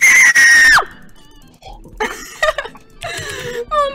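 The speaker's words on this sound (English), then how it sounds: "Are you screaming over diamonds?" A person screams loudly in a long, high sustained shriek that cuts off, followed by ragged shouting and yelling during a Minecraft game.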